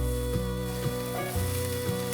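Ginger, preserved radish and red and white mushrooms fry in a little oil in a wok, giving a steady close sizzle with a few soft stirring scrapes and no talk.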